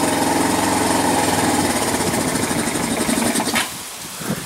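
A 1999 Kawasaki Bayou 220 ATV engine idles steadily just after a cold start, a loud, close, even rumble that cuts off abruptly near the end, leaving a quieter engine sound with outdoor wind.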